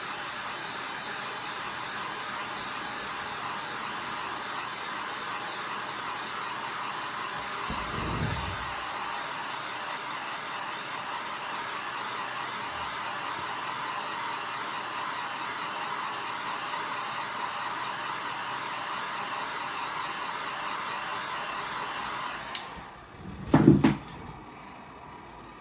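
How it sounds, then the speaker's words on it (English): A heat gun blows hot air across a freshly coated epoxy tumbler, a steady broadband whoosh that runs continuously at close range before cutting off, followed by a couple of brief clicks and handling knocks. "I'm gonna hit it with the heater. Here's my heat gun again."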